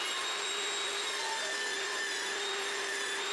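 Power saw cutting a wooden board down to 8 cm in a workshop under renovation, a steady high-pitched whine with broadband cutting noise holding constant and loud throughout, no talking.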